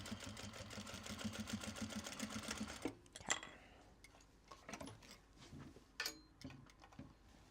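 A sewing machine stitches a quilted case in a fast, buzzing run for a few seconds, then stops, leaving scattered faint clicks and handling noises.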